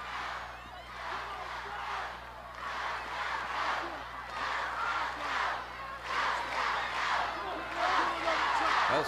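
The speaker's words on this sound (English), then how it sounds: "Listen to the crowd." A wrestling arena crowd roars and cheers in swelling waves during a women's match, the noise rising and falling and building louder toward the end, with a commentator's voice faintly mixed in.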